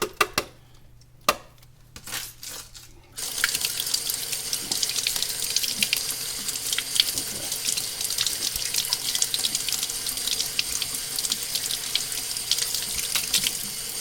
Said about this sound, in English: we're just going to run cold water over these for maybe a minute or so.